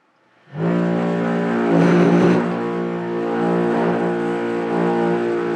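A pellet stove's hopper auger motor switches on after a short silence and keeps running as a steady, droning hum, close and fairly loud, with a slight swell partway through.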